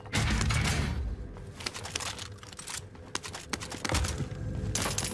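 Pistol shots fired in a video game, a rapid string of sharp cracks with loud bursts near the start and end, surrounded by clattering game noise.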